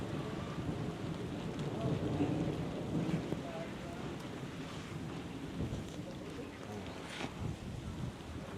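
Heavy rain pours steadily over a Punjab village pear orchard, a broad dense wash of noise with low rumbling that suggests thunder rolling nearby, constant and loud throughout with wind buffeting the microphone.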